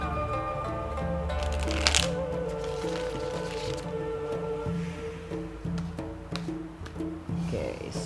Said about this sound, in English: I'll be shuffling the cards very quickly